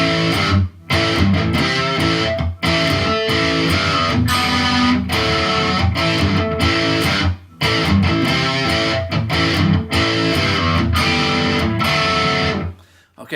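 Distorted electric guitar plays a riff, loud and continuous with brief gaps between phrases, close and dense, with no voice over it.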